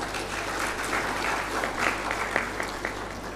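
An audience at a conference session claps in a steady, even round of applause for an Olympic swimming team member, a continuous patter of many hands at moderate volume with no talk over it.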